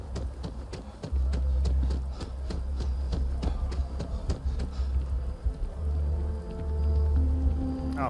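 Rain falls in the video game Starfield as a steady patter of drops, with rhythmic tapping over a low rumbling hum and a tonal electronic sound near the end.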